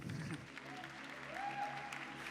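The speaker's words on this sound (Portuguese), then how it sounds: "Uma salva de palmas para minha esposa." A church congregation applauds the preacher's wife, a soft distant wash of clapping with a faint tonal whine over a low hum.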